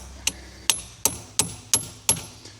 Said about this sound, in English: Let me just grab a hammer and give that starter a few taps